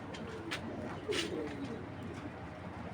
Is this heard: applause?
no